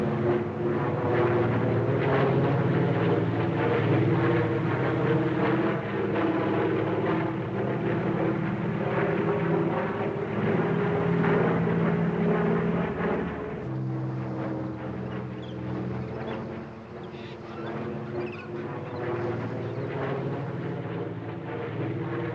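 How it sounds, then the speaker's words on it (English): A fixed-wing plane flies overhead in a 1952 film scene, its steady propeller-engine drone loud and continuous with a slight shift in tone midway. "That plane is flying in the wrong direction."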